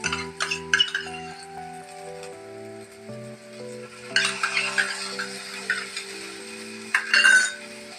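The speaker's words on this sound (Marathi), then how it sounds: "मी हा चांगला परतवून घेते." Masala with garlic paste and salt being stirred and sautéed in a pan over low gas, with soft sizzling and a few sharp clinks of a spoon against the pan under a faint background tone.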